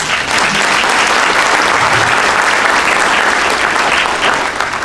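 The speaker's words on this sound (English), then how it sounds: "You can applaud, please." An audience at the Valor Awards applauds, dense steady clapping filling the room at full volume throughout.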